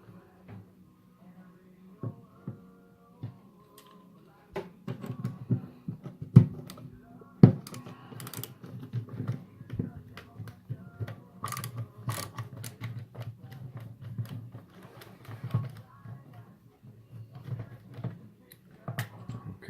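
Four screws are backed out of a metal detector's battery compartment, heard as a string of small ratcheting clicks, scrapes and metallic ticks from a screwdriver, close up and irregular, with no talking over them.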